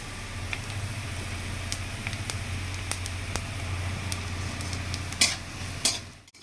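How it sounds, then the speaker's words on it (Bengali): Whole coriander seeds and cumin fry in hot oil with a steady, quiet sizzle. A utensil stirs them with occasional sharp clicks, and a couple of louder scrapes come near the end. "এই মশলাগুলো আমার ভাজা হয়ে গেছে প্রায়, দেখো লাল লাল করে।"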